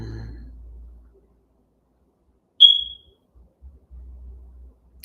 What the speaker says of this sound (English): My fire alarm system decided to go, the battery decided to die